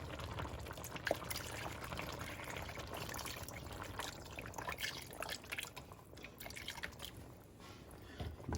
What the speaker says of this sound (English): We're going to put our broth in, or stock.